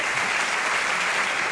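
Dense, steady audience applause from a French talk show studio crowd, loud and continuous throughout the short burst with no voices on top.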